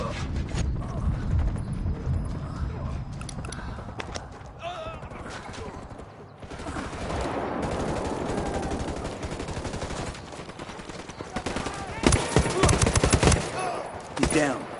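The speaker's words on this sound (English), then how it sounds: "Taking fire from the checkpoint." Gunfire at a checkpoint in Ghost Recon Wildlands: dense, continuous bursts of automatic weapons fire with a louder volley near the end, mixed with game sounds and voices talking throughout.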